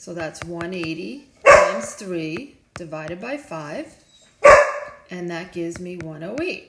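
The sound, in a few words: dog barking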